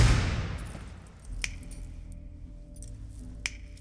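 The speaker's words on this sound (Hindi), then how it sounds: "तू चुटकी क्यों बजा रहा है?" Two sharp finger snaps, about two seconds apart, cut through a quiet, low background hum in a tense film scene from Bogan.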